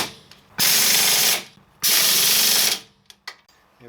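Bolts are tightened with a power tool after refitting the front spindle on a 2002 Mitsubishi Lancer during a coil spring replacement: two close, steady whirring bursts of about a second each, followed by a few short clicks.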